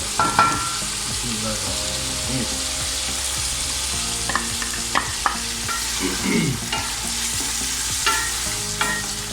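Fried chicken karahi with tomatoes is stirred in a pan, with loud scraping and clattering strokes over a steady oily sizzle.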